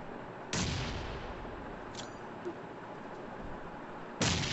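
Grenade blasts in the battle royale game PUBG: two sharp, loud booms about four seconds apart with a rumbling tail and faint crackle between them, no talk over it.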